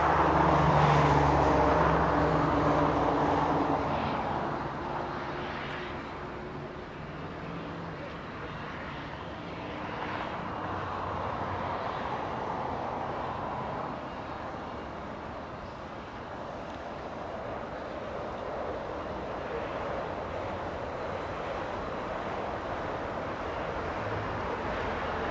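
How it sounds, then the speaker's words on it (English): Airbus A330 jet taxiing on Taxiway Hotel at Los Angeles International Airport, a low steady engine rumble at moderate distance, louder at first and then settling, with distant ambient noise throughout. "A330 on Taxiway Hotel."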